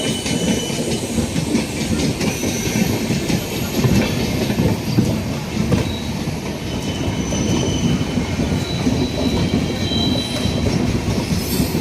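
A Puducherry–Tirupati MEMU electric multiple-unit train runs through Chengalpattu junction, giving a steady, loud rumble of wheels on rails with rhythmic clickety-clack and occasional squeals throughout.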